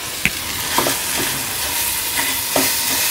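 Khoya and sugar being stirred and roasted in a pan on a medium gas flame, a soft steady sizzle with a few scraping stir strokes near at hand and no talking.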